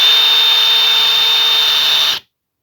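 A power drill runs at a steady high pitch with a constant whine, loud and close, then cuts off abruptly into silence, used in a woodworking craft project with a piece of wood placed underneath.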